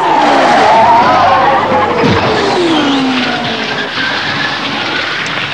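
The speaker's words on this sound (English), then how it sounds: "At 180 miles an hour, the car had snapped out of control, careered towards the wall, and punched a gaping hole in the concrete" A 1993 NewmanHaas IndyCar race car snaps out of control at about 180 mph, a loud continuous engine roar with sliding, squealing tyre tones sweeping across several seconds, close and dominant throughout.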